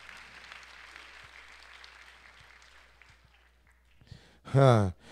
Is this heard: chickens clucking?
no